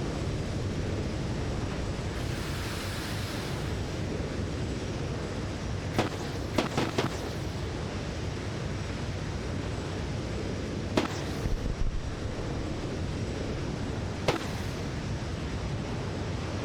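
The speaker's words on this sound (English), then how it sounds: "Wait, what type of rockets are those?" Rockets launched from an F-4 aircraft in the Vietnam War game SOG Prairie Fire burst out in a few sharp, crackling volleys over a constant, rushing roar of wind and engine noise.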